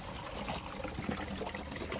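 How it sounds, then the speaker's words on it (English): Homemade enzyme cleaner is poured through a funnel and small sifter, a soft, continuous trickling stream that stays faint and close throughout. "I just get a funnel, a little sifter, and then I just pour it out."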